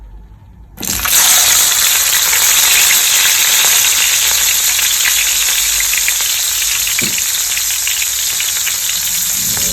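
Koobi salted fish dropped into hot oil in a pan, bursting into a loud, close, sustained crackling sizzle after a second of quiet, then hissing steadily with a faint clink partway through.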